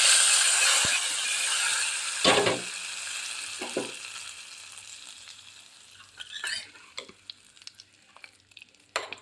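Coconut and dried red chilli fry in a pan for a pumpkin and lentil curry, giving a loud, bright sizzle at first that softens as scattered spoon scrapes and clinks against the pan come through near at hand.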